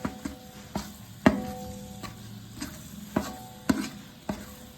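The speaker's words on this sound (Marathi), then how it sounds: "आलं लसणाची पेस्ट चांगली तेलात परतून घेताना" Ginger garlic paste cooks in oil under a soft sizzle while a spoon scrapes and knocks against the pan in a loose, repeated rhythm, up close and with no voices.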